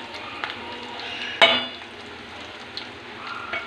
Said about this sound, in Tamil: இது 2 மினிட்ஸ் கொஞ்சம் ஃப்ரை ஆகட்டும்.